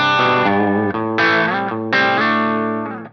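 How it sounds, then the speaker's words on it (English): Electric guitar through a Line 6 Helix Litigator amp model and a 2x12 cabinet, played as a few sustained, overdriven chords and notes that ring loud and close, with no voices. "this is the tone we would hear out of that Litigator amp"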